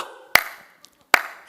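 Two crisp, close hand claps sound in a Korean church during a Sunday service, separated by a short pause, each trailing a faint room reverberation.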